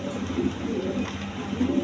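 Breeding pair pigeons at a farm loft coo in repeated low rolling phrases, several bursts close by and steady, with no talking over them.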